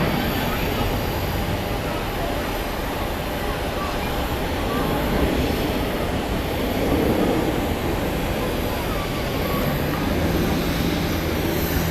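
A Lufthansa airliner going around at Zurich Airport produces a continuous broad engine roar, fairly loud and steady with a slight swell near the end, and there may be some faint talk underneath.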